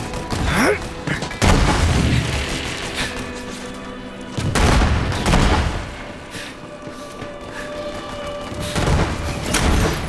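The twin gun fires in Borderlands 3: heavy, loud bursts of gunfire with booming thumps, rising and falling in clusters over a dense roar of battle.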